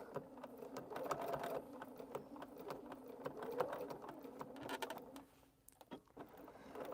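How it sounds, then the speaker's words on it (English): A sewing machine back stitching while a Poppins bag is made, running in a steady fast rattle with brief pauses and a short stop near the end. "Back stitch, go back up, back stitch again"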